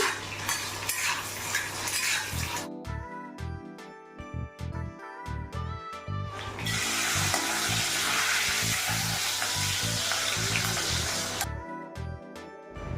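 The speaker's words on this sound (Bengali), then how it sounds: "এখানে একদিকে মাছের আলো ভাজছি আর একদিকে মাছ ভাজছি" Fish and potatoes fry in a pan with a steady loud sizzle, while metal utensils clink and scrape against the cookware throughout.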